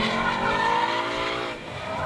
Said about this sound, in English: Slides are manageable, tire smoke is readily available, and the car looks really cool doing it.